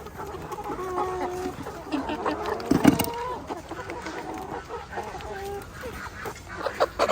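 Young laying hens cluck and call steadily in a coop built over water, several birds overlapping in a busy, close chorus with one louder burst midway.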